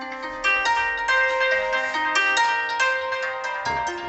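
An iPhone 8 ringtone plays alone: a loud, bright electronic melody of repeating chime-like notes in a steady rhythm, filling the whole few seconds with no talking.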